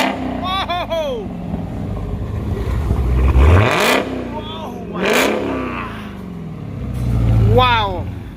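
A Dodge Charger Hellcat with a GtHaus American Roar Racing exhaust revs up hard several times, its loud, close roar surging and falling in repeated bursts while people talk and exclaim around the car.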